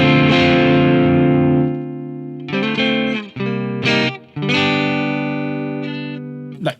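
Electric guitar run through an AmpliTube 5 Marshall-style amp model with heavy distortion, a long sustained chord fading out, then choppy strummed chords and bursts ringing loudly and alone.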